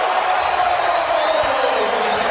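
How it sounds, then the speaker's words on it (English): A basketball arena crowd at the 2003 NBA All-Star Game roars and cheers after Michael Jordan's flip shot goes in, a dense, steady wash of voices and whoops throughout. "And the crowd responds"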